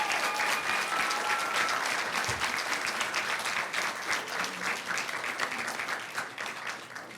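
Sustained applause from an audience at a school board meeting honoring a staff member, a steady dense clatter of many hands clapping that holds for several seconds before tapering slightly.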